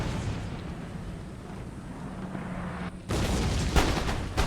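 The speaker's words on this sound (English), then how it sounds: "Howitzers are firing off" Howitzer artillery in the Empire: Total War video game fires a heavy booming shot, a low rumbling blast followed by a sudden louder report and sustained roar of cannon fire, with no talk over it.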